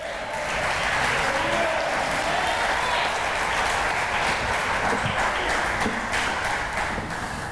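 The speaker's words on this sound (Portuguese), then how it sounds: "Você pode louvar, aplaudir o Senhor aí?" A church congregation at a Sunday family service claps in sustained, dense applause that stays even and loud throughout, with no one speaking over it.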